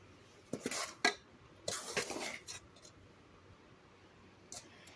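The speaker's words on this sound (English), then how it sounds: "you're just going to want to stir, stir, stir, and keep stirring" Soda ash being stirred in a heating pot at home, heard as a few sharp metallic scrapes and clinks of a utensil against the pot, separated by quiet pauses, close and moderately loud.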